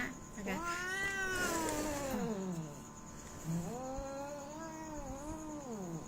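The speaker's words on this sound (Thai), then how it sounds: "น้องแมวน้องแมวนะคะ" A cat meows loudly and close, two long drawn-out cries with a short pause between them, in a quiet indoor room.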